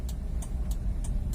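A car rolls forward straight ahead during a driving lesson, its engine a low, steady rumble close by with a few faint, evenly spaced ticks above it and no voices.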